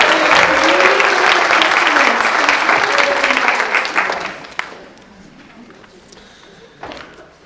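A church congregation gives a loud round of applause for a tuba player, dense clapping with a few voices that fades out after about four seconds, leaving quieter room noise and a stray thump.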